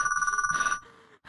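An old-fashioned telephone bell rings in rapid trilling bursts in a radio drama, loud and close, then stops abruptly, leaving a faint tail and a brief soft noise.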